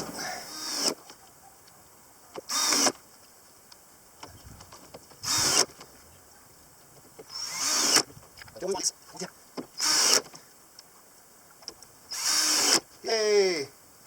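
Power drill driving screws into a wooden entry awning roof in several separate whirring bursts, close and loud, with quiet pauses between them.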